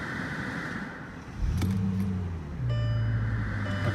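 A 2006 Mercedes-Benz CL55 engine cranks briefly, fires and settles into a steady idle of around 700 RPM. It is close and loud, with a second rise in the engine note partway through.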